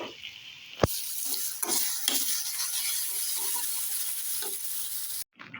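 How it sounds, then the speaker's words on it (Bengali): Muri ghonto with fish head frying in a pan, a steady loud sizzle broken by scraping stirs and a sharp clack near the start, cutting off abruptly at the end. "এখানে হচ্ছে মুড়ি ঘন্ট রান্না হচ্ছে মাছের মাথা দিয়ে"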